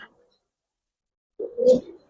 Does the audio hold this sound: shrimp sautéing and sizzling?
no